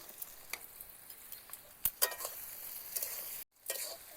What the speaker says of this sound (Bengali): পেঁয়াজ আদা রসুন লাল লাল করে ভেজে নেব।